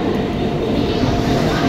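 A train decorated with flowers passes near a festival flower market during Dasara, making a loud, close, continuous rumble of wheels and carriages.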